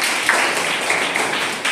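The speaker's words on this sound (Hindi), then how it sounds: "चलो सब कोई ताली बजाओ।" A group of children in a classroom claps together, a dense, continuous burst of applause filling a short moment, fairly loud and close.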